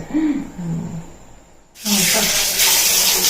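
Water poured from a vessel while sandalwood paste is being ground during wedding preparations. A steady splashing pour comes in loud partway through, after a quieter stretch with faint background voices.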